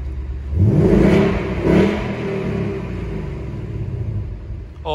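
A Ford Mustang revs up twice in quick surges, a deep throaty exhaust rumble in sport mode that settles into a steady idle growl.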